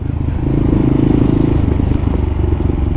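Kawasaki KLR motorcycle being ridden, its engine a loud, close, steady throb that swells slightly and then holds, with some road clatter and wind rumble mixed in.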